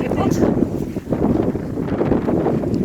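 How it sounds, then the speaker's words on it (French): Gusty wind buffets the microphone on a steep outdoor hillside, producing a steady, loud low rumble throughout, with a person speaking underneath. "je sais pas si vous allez pouvoir m'entendre avec le vent"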